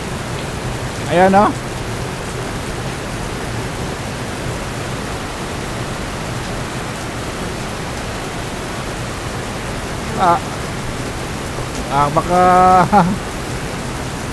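Heavy rain pours down beside a building, a dense, steady roar that fills the whole stretch, with someone speaking briefly near the start and again near the end.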